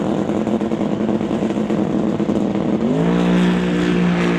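A twin-turbo 289-cubic-inch Ford drag racing car launches at a drag strip, its engine loud and close, roaring steadily before climbing into a sharp rising rev as it pulls away.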